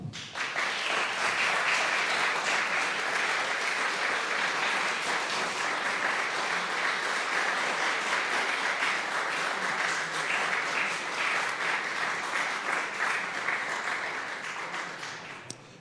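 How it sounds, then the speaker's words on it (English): Steady round of applause in a council meeting hall as newly elected councillors enter, a sustained even clapping from the chamber that fades slightly toward the end. "you might like to give them a round of applause as they come in"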